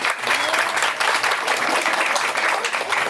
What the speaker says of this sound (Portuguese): Salva de palmas, gente, para ela.